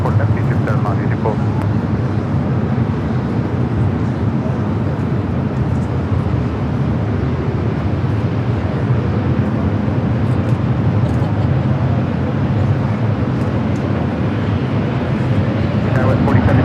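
An Egypt Air heavy jet taking off from runway 24 left at LAX gives a steady, loud, broadband engine roar that holds without letup, with a voice talking over it at times.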